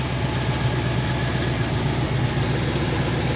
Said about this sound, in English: I don't see any misses in it, idling nice.